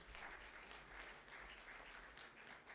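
An audience at an electronics engineering conference keeps up a full, even round of applause, many hands clapping together in a dense wash throughout, heard from a little distance.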